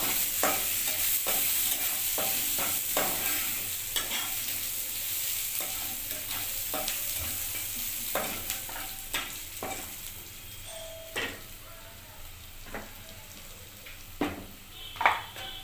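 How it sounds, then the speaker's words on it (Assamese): A steady sizzle of onions frying in a pan, punctuated by repeated scraping stirs and a few metallic clinks, no talk. "পিঁয়াজটো অলপ ভাজি ল'ব।"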